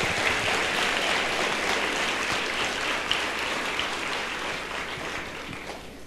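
Church congregation clapping together, a loud, dense wash of applause that fills the space evenly and tapers slightly toward the end.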